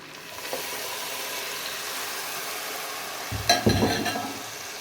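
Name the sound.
chicken and onion cooking in a pot with stock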